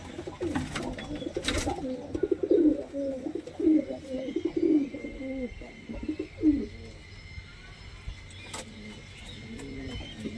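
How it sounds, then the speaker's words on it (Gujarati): Several pigeons coo in low, throaty bursts inside a pigeon loft, repeating irregularly at close range, with faint background chirps and a quiet spell near the end. "અંદર તમને બતાવી દો કબૂતર"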